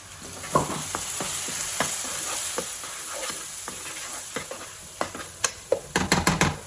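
Spices cooking in a pan for a traditional fish curry, a steady close sizzle with regular spoon scrapes and taps that quicken into a burst of stirring near the end, no talking.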